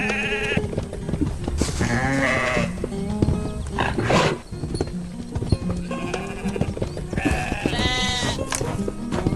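Sheep bleating in a pen on a farm, several animals calling one after another in loud, wavering bleats that overlap and repeat throughout, close and continuous.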